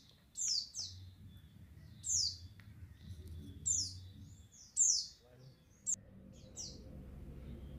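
A pleci, a white-eye songbird, gives several bright, clear chirping bursts in an irregular rhythm, loud and close, over a low background hum with brief quiet gaps between calls.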